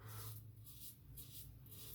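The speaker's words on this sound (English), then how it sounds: "this is really mowing down the stubble very loudly, and to my ears at least, this is quite a vocal razor" A Razorock 400 Plissoft razor with an Abbate Y La Mantia Garibaldi soap mows through stubble in quiet, rasping strokes that repeat roughly every half second, close up and faint, with no talking.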